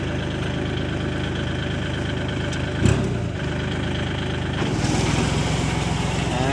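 A large tractor engine runs steadily and loudly throughout while covering watermelon planting beds, chugging with a low rumble, with a brief clunk midway and a slight rise near the end.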